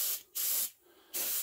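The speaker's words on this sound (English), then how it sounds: "And now you see I'm getting a little less paint when I spray here, since I move that needle forward in the orifice a little bit." Airbrush spraying paint onto an HO scale GE 70-ton locomotive model, two steady hissing bursts with a short pause between them, close and fairly loud.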